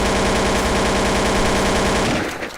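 Automatic gunfire in the online shooter Counter-Strike Online 2: a loud, dense, rapid burst of shots that runs continuously, then cuts off abruptly near the end.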